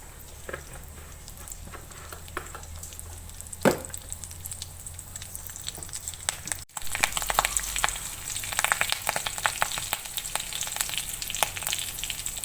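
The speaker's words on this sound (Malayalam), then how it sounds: "നമ്മൾ എണ്ണയിൽ കരിവേപ്പില ഇട്ടുണ്ട്." Curry leaves dropped into hot oil in a clay pot while cooking Kerala puli curry, giving a steady close sizzle with crackling pops that grows louder after a brief break partway through.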